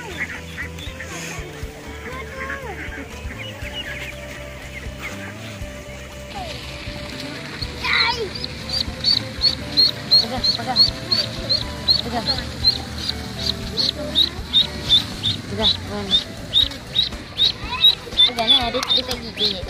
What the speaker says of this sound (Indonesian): Anak itik. Kecil kawan adik. Ni betina. Ni bunyi dia.